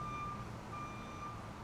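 A truck's reversing alarm, faint and distant, giving a steady high beep that cuts out once briefly over low background rumble.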